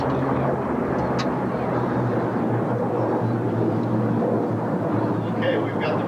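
Unlimited warbird racing planes such as a P-51 Mustang pass at Reno Stead Airport air races, a steady, distant propeller-engine drone under an announcer's talk.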